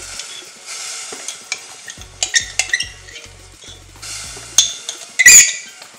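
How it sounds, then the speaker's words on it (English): Spicy sorrel chutney with pimento, garlic, ginger and scotch bonnet pepper melts into a syrup in a pan, with close, loud sizzling, scraping stirs and clinks of a utensil against the pan. "We're going to melt it a little bit back to into a syrupy form."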